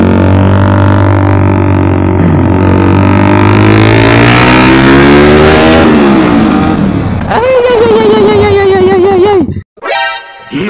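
A Kawasaki Ninja four-stroke 1000cc four-cylinder motorcycle engine revs loud and close, its pitch climbing and falling through several long pulls, then settling into a steady high drone before brief sharp blips at the end.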